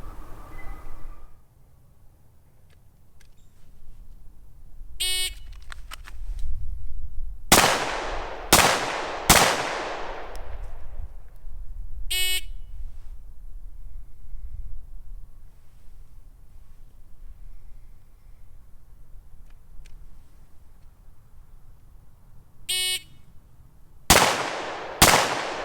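Smith & Wesson Shield pistol shots ring out at an outdoor handgun qualification range, sharp loud cracks in quick strings of two and three, with short electronic signal buzzer beeps before each string.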